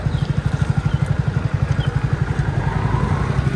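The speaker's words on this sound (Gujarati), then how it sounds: "હવે બાઈક તો નીચે ઉતારીએ છે." A motorcycle engine idles close by with a steady, even low thump, on a street after heavy rain.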